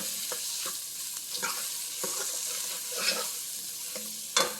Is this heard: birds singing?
no